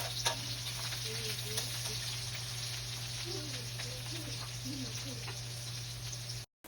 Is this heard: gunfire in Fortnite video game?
no